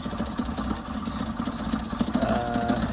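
A 1977 Toyota motorhome engine idles with a steady mid-pitched drone and a loose metallic rattle from the air filter, which has lost its mounting bolt. The engine sounds close and continuous, with no talk.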